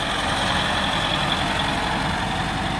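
Steady, continuous drone of a tractor engine running in an urban forest in Karachi, loud and unbroken with a deep rumbling low end and no talk.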